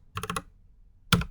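A computer keyboard gets a quick burst of three or four close key taps, then a short pause and one louder, firmer keystroke like the enter key, with no talking.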